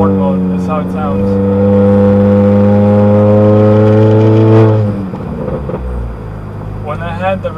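A modified Honda Accord Sport 1.5T with downpipe, front pipe and resonator delete, driven in normal mode, drones with a steady low exhaust tone that swells under acceleration, then drops away around the five-second mark, leaving softer engine noise.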